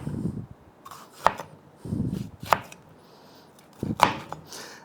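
A knife chops peppers for fajitas on a board in three sharp, separate strikes, each followed by softer scraping and handling sounds.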